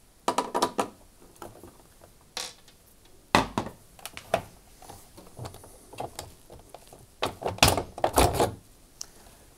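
A hand nut spinner removes the nuts holding the door of a Hotpoint washing machine, giving irregular metallic clicks, scrapes and knocks with quiet gaps, close by and with no talk.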